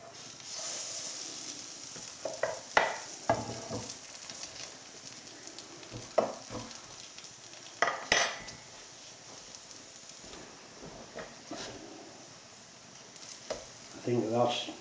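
An egg frying in a pan for a Spam and egg sandwich, a soft steady sizzle with intermittent clicks and scrapes of a utensil, quiet and close, with a person talking now and then over it.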